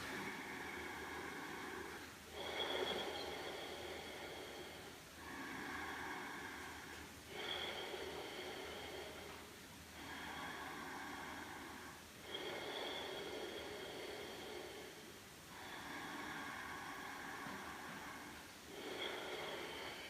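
Slow, steady breaths during a yoga balance pose, Bhagiratasana, each long airy inhale and exhale repeating about every two and a half seconds, close and soft with no talking.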